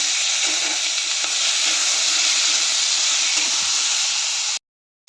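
Onion, tomato, ginger, garlic and coconut sauté in a hot pan for a dhaba-style spicy shev bhaji masala. The sizzle is loud and unbroken, with light stirring, until it cuts off abruptly just before the end.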